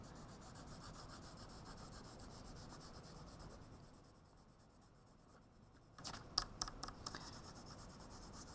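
Light blue colored pencil rubbing back and forth across paper, a soft steady scratchy shading that thins out briefly, then gives way to a few sharper, louder strokes near the end, close and quiet.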